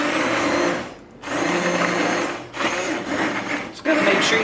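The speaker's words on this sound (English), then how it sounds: "this way I could just do the whole thing with my immersion blender" Immersion blender whirring through potato and leek soup, a steady motorized buzz held close with a couple of brief dips where the blade load shifts, running throughout with no talk.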